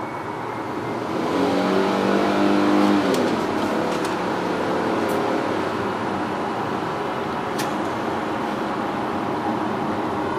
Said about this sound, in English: It's got power, it likes to rev.